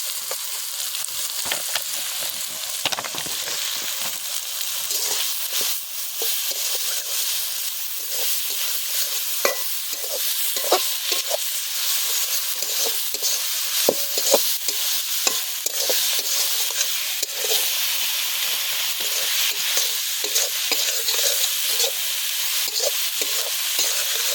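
Ginger-garlic paste fried with salt, meat masala, turmeric, Kashmiri chili, cumin and coriander powder for chicken masala rice, a loud continuous sizzle under constant scraping stirs, outdoors in a village.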